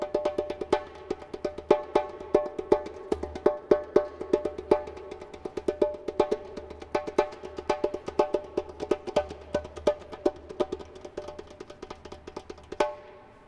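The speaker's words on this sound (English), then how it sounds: "the softest sound that we have. And it's a sound called variation." Soft djembe variation strokes from a Haitian-style drum ensemble: a long, steady run of light, rapid hand hits with a fairly even rhythm and small accents, close and unaccompanied.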